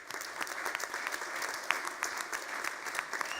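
A conference audience gives a round of applause for the GWT team, a brisk, even patter of many hands clapping at moderate distance, sustained throughout.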